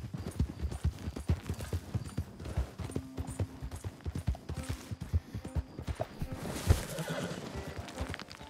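Horse hooves clip-clop steadily in Red Dead Redemption 2, a brisk continuous rhythm close up, with a neigh partway through.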